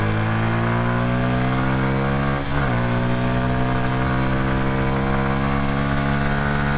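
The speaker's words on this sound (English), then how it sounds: "This bike is just so much fun cruising on these back roads." A CFMoto Papio 125 motorcycle cruises on back roads, its engine a loud, steady, close drone with a brief dip and gear change partway through before the pitch climbs again.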